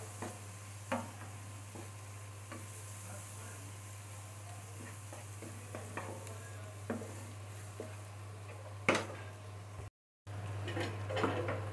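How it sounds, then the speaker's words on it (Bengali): Onion-garlic paste and chili frying over low heat for a koi fish dish, a steady soft sizzle with occasional stirring clinks and scrapes throughout, fairly quiet and close, with a brief dropout near the end. "এভাবে চুলাটা কমিয়ে একটু ভাজা ভাজা করব"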